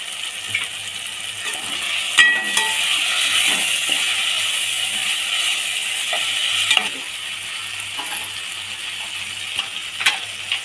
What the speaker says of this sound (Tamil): இப்போ நம்ம இடித்து வச்சுருக்கிற இஞ்சி பூண்டு சேர்த்துக்கலாம்.